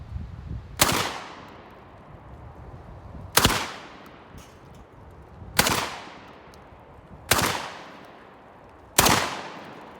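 A Franchi SPAS-12 shotgun fires at an outdoor range in semi-automatic mode: five sharp, loud blasts, spaced unevenly about two seconds apart, each trailing off in a short echoing decay. No voices are heard.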